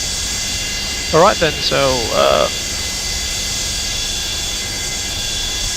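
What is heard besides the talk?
Boeing 727 JT8D jet engines taxiing, Microsoft Flight Simulator video game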